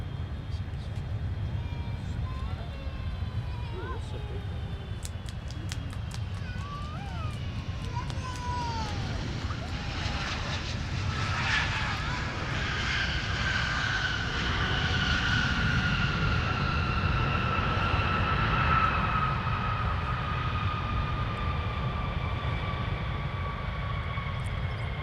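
Airliner arriving at Minneapolis–Saint Paul airport, a steady engine roar swelling and fading into a whining drone over wind rumble, with a voice talking over it.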